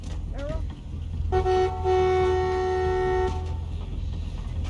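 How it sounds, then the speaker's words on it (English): Truck horn honks in The Walking Dead video game set in a forest, a brief sharp toot and then a longer sustained blare rising over a low rumbling engine, with a voice talking nearby. "like beep the horn or something"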